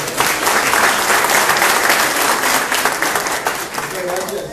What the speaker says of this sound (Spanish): Un aplauso para José Manuel.